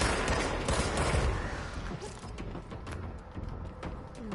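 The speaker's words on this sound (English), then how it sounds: "Who is shooting at me?" Rapid bursts of gunfire in the video game Control, aimed at the player, crackle continuously through a dense, busy mix and grow somewhat quieter toward the end.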